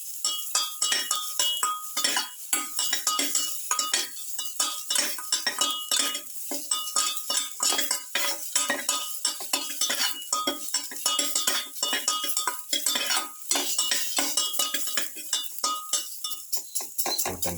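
A utensil stirs and scrapes pilaf vegetables in a pan, with rapid, steady clinking and scraping throughout, close and fairly soft, with no talking.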